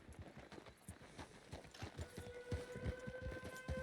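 Horse hooves galloping in the video game Red Dead Redemption 2, a fast rhythmic clip-clop of repeated thuds, fairly quiet, with a faint tonal hum entering partway through.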